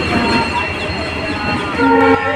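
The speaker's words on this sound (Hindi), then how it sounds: "ये देखिए दोस्तों, सामने आ रहा है इंजन चेकिंग करता हुआ।" A railway engine approaching on an inspection run along a newly doubled line, a loud steady rumble of the locomotive with a horn-like tone rising toward the end.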